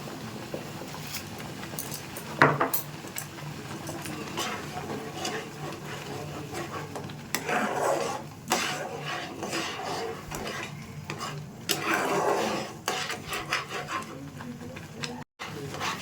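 Semolina and sugar stirred steadily in a pan, a continuous scraping and rubbing of the spoon against the pan base, with louder bursts of scraping and occasional clinks, close and unaccompanied.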